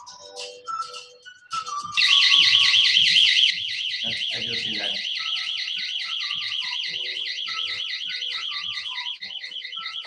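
A smart sensor alarm set off by motion wails loudly with a rapid warbling electronic tone that holds steady for several seconds, after brief beeps and a short spoken phrase at the start.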